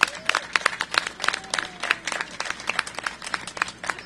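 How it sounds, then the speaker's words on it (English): A modest audience applauds, scattered claps forming a steady patter throughout, moderately loud and without voices. "Let's give her a big round of applause."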